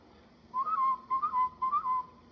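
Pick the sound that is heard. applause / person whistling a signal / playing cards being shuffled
person whistling a signal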